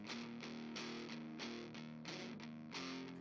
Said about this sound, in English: let's see if we can find some distorted tones that we're enjoying